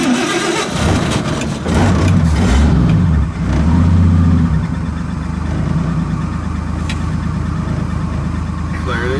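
A draw-through carbureted turbo engine in a '56 car idles steadily after a cold start, a close mid-pitched rumble that settles in after an early catch and rev, with voices talking over it at times.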